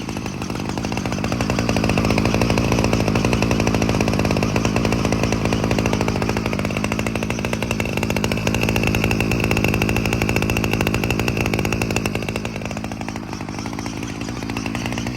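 An old Ryobi 765R direct-drive two-stroke string trimmer runs steadily with a loud, buzzing, chainsaw-like drone, close and continuous, dipping slightly near the end.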